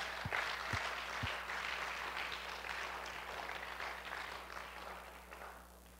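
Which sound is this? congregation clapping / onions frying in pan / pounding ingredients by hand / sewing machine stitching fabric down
congregation clapping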